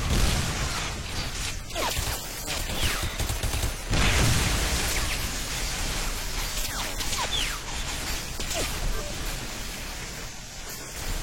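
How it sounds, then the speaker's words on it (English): Gunfire as people shoot, a dense run of sharp cracks and bursts scattered across the whole stretch, close and fairly loud, with some swishing noise between the shots. "Who is shooting?"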